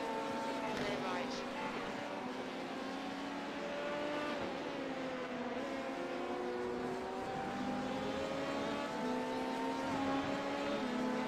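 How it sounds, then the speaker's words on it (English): Race cars in the iRacing video game at Watkins Glen during a 24-hour endurance event, engines droning and shifting pitch continuously as several cars run close together, with team radio chatter over the top. "Phil, faster car approaching is their class leader"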